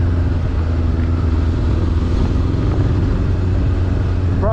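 A motorcycle ridden over some of the roughest roads in Johannesburg gives a loud, continuous engine rumble that holds steady throughout, heard close and without any talking.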